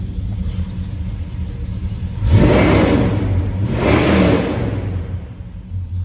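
A 1971 Chevrolet Chevelle V8 with a mild cam idles steadily, then revs hard twice in quick succession, each throttle blip rising and falling before settling back to a rumbling idle, loud and close with no talking.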